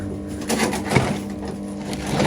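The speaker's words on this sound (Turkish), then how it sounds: "Burada iki tane ay yeni çıkmış yavru var." Young pigeon chicks in a loft give soft, muffled coos, faint and close against a low steady background hum.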